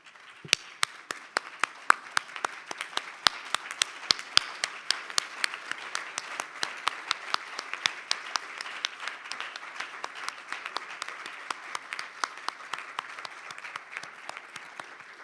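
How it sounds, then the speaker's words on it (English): Conference audience applauding together in a large room, a long sustained round of dense clapping with sharp individual claps standing out, continuous and even throughout with no talk over it. "giving ourselves a huge round of applause just to congratulate every single person in this room"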